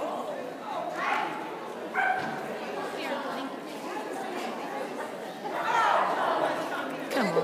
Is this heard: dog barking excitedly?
yes